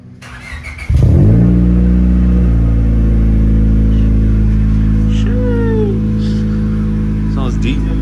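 Honda Civic EG with a B16 engine cold-starts with a loud catch, then settles into a steady, deep high idle that holds loud and close throughout, with faint chirps and a brief rev blip near the end.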